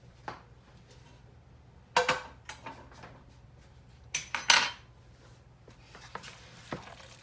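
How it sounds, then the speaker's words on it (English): Butter being scraped from a pan onto noodles: a few close scrapes and clinks of a utensil against the pan, separated by quiet gaps. "we're going to make sure we get all of that butter that we put over those noodles out of this pan and back into the noodles."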